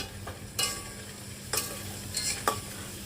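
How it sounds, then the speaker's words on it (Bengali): Spices for a taro curry fry in a pan, a faint low sizzle punctuated by four sharp spatula strokes spaced about a second apart. "সমস্ত মশলা ভালো করে সময় ধরে কষিয়ে নিতে হবে"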